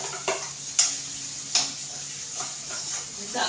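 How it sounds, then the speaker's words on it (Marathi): White pea curry masala frying in oil in a pan for a Maharashtrian bhaji, a soft steady sizzle with a few light stirring clicks and scrapes, close but fairly quiet. "चांगलं त्याला असा तेल सुटेपर्यंत चांगलं भाजून घ्यायचं।"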